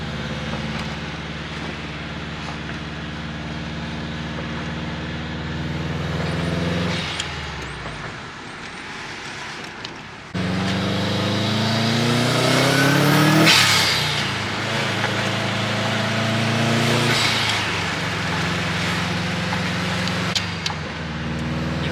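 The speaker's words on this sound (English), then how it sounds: "I love the way that this car sounds right now, man." Subaru fitted with a full HKS turbo-back exhaust revs loudly nearby, engine pitch climbing and falling through several throttle blips, with a brief drop in level midway before the revving resumes.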